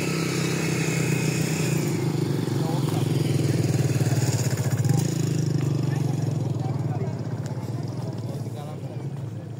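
Motorcycle engine running steadily on a riverside char across the Padma river near Rajshahi, a loud continuous close rumble with wind and rattle throughout.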